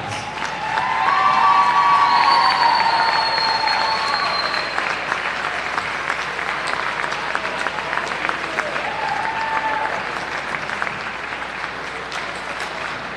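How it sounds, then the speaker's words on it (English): Audience at a North Greenville women's volleyball match applauds the 2018 senior class, sustained dense clapping with cheers and whistles throughout, loudest early and continuing steadily in a gym. "please stand to your feet and give a round of applause for your Women's Volleyball 2018 senior class"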